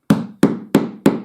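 A metal punch is hammered through buckskin leather while making knee-high leggings, giving four sharp, evenly spaced thwacks about a third of a second apart, close and loud with nothing else heard.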